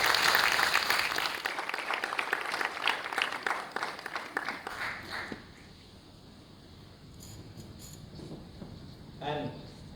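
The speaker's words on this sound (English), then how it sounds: "we welcome all of you with a loud applause" Audience applause greets a welcome address at the 10th Colombo International festival, a fairly dense clapping wash for about five seconds that fades into quiet room tone with a brief stir near the end.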